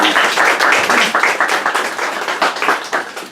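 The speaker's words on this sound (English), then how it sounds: "please give him a big round of applause for his presentation." Close, loud applause from a cruise ship audience after a talk on Alaskan totem poles, a dense patter of many hands clapping that holds steady, then thins slightly toward the end.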